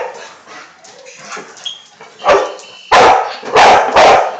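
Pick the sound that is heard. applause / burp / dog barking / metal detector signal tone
dog barking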